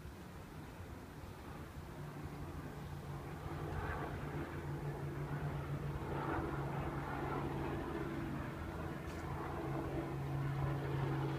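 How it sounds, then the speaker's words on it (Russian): A helicopter flies overhead above a quiet residential street in Moscow on a summer day, near a kindergarten. Its steady, low droning hum swells slightly partway through and holds at a moderate distance. Someone briefly speaks. "там вертолет"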